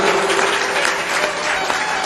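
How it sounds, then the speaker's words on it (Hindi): Loud, dense applause from an audience at a spiritual discourse fills the whole moment, a steady wash of clapping close by. "थोड़ा जोर से ताली बजाना।"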